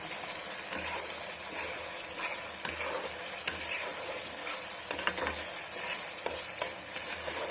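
Mustard fish masala frying in a pan while being stirred, a loud continuous sizzle close by with scraping strokes of the spoon and small crackles.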